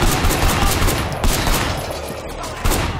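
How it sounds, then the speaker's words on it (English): Police gunfire in the video game Sleeping Dogs, a dense, loud fusillade of rapid shots continuing throughout with no pause. "Why are the cops shooting at me?"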